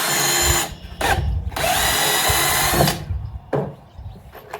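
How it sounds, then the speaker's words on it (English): A power drill bores a hole into the wooden bottom of a tree swallow nesting box. It gives loud, close bursts of whining motor and grinding, with short pauses between runs. "we're going to drill a hole so that we can put one screw across the bottom"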